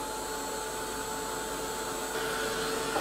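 A hair dryer blows steadily over a butterfly shadow box craft, a continuous close whoosh with a slight rise in pitch and loudness near the end, and no speech.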